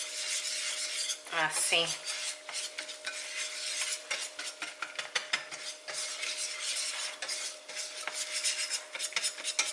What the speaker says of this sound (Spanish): Vamos a ir removiendo.